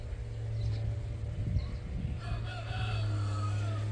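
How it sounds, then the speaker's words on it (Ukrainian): A neighbour's rooster crows in the distance over a steady low hum, with faint bird calls in the background. "І півень у сусідів співає, ну капець як гарно."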